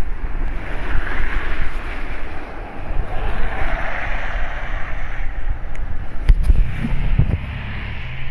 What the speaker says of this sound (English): Wasn't expecting it to be a sudden wind gust